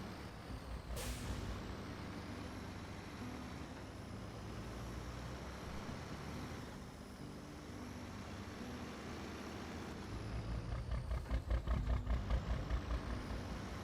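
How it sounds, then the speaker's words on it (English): Semi-truck driving through a snowy neighborhood in a game, a sharp air brake hiss near the start over a steady diesel engine rumble that grows louder and throbbing toward the end, no talking. "It's a semi-truck in a neighborhood."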